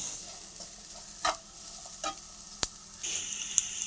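Egg samosa filling frying in a pan over a low flame: a soft, steady sizzle with a few sharp scrapes and knocks of stirring, and a brighter hiss swelling near the end.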